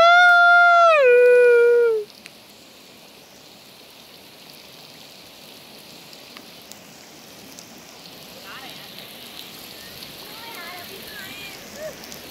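Steady outdoor rain keeps up a soft, even patter throughout, opening with a brief rising howl-like tone over the first couple of seconds before settling into the constant wash of falling drops.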